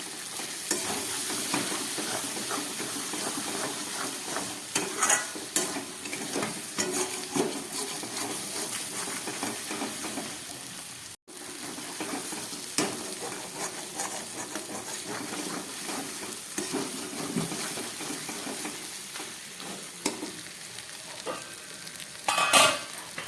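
Mutton curry with spices frying in oil sizzles steadily while being stirred in the pan, with repeated scraping strokes and a brief break midway, close and clear.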